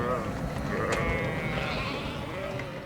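A large flock of about a thousand sheep bleats in a steady, dense chorus, with overlapping calls near and far and a person talking faintly underneath.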